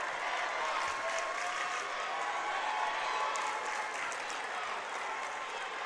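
A crowd at a high school sectional boys basketball game, Richmond against Pendleton Heights, applauding and cheering in a dense, continuous roar with scattered shouts, the clapping sustained and loud throughout.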